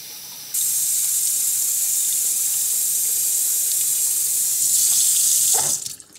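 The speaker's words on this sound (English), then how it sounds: "Once again, fill it up with water." Tap water runs steadily into a plastic bag in a hissing, continuous stream, loud and close, then cuts off with a brief splash and rustle at the end.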